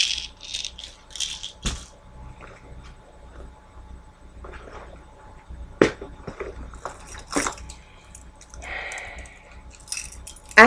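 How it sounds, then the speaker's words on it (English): Keys and small items rattle and jangle inside a woman's purse, with scattered close rustling and clinking bursts spread irregularly over several seconds and no one speaking. "I have my keys in my purse."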